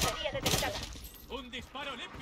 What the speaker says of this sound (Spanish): Un disparo limpio.